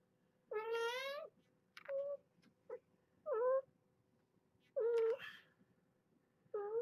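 Four kittens in a flip-top carrier meowing in short, high, plaintive cries, about six calls with quiet pauses between, close and clear with no talk.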